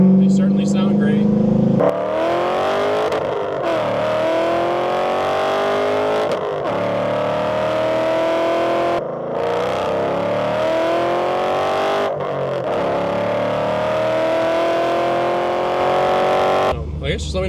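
A 2005 Ford Mustang GT with the 3V V8 runs loud and close, its engine and exhaust repeatedly climbing in pitch through the gears with brief breaks between pulls, and a voice heard over it.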